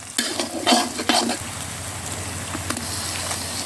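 Pork stir-fried with ready-made red curry paste in oil in a pan for a spicy mixed-vegetable curry: a spatula scrapes and clatters against the pan in a few quick strokes over a steady close sizzle, with no talk.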